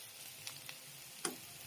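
Chow mein noodles with fried vegetables sizzling quietly in a pan over low flame, with a few soft scrapes as they are stirred, faint and close, no voices.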